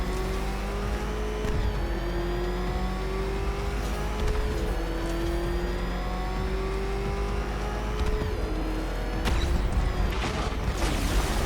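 A car engine races in Batman Arkham Knight, revving steadily with rising and falling pitch over a low rumble, with sharp crashes and skids near the end.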